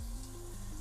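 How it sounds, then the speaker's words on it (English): Water sizzles steadily on a very hot skillet heated for peach pancakes, a faint continuous frying hiss with no voices. "you don't want to do anything till that really sizzles on there"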